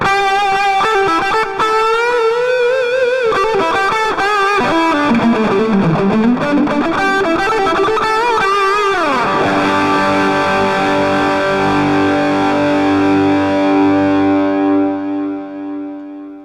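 A distorted electric guitar through a humbucker pickup plays a melodic line, then rings out on a sustained chord that slowly fades, heavy and saturated with no talking.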